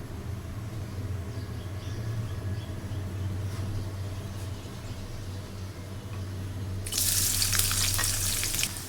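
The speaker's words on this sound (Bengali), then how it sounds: "তেলটা গরম হয়ে গেলে আমি দিয়ে দিচ্ছি পেঁয়াজ কুচিটা" Chopped onion hits hot oil in a wok (kadai) while cooking a bottle gourd and egg curry. A sudden, loud, bright sizzle bursts in near the end and stays strong over a low steady background hum.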